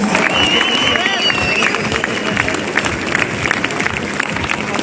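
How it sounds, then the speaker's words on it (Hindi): Loud, continuous audience applause at a seminar, a standing ovation from a large crowd, with sustained dense clapping and a murmur of voices mixed in throughout. "ताली कन्टिन्यू बजिराख्नु पर्यो लेडिज एन्ड जेन्टलमेन।"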